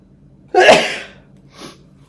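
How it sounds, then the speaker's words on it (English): A single sharp sneeze from a woman bursts out loudly and close, followed a moment later by a softer breathy exhale. "don't know what made me sneeze then"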